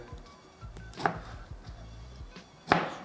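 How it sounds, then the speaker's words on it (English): A knife chops wild cucumbers into pieces, trimming the stems and cutting each into eighths, with two sharp, loud thuds and several lighter taps in between, no voices. "I'm just cutting off the stems and then I'm cutting each one into 8 pieces"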